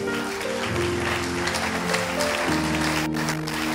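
A church congregation applauds the Lord, a steady, loud wash of many hands clapping, with music or voices underneath throughout.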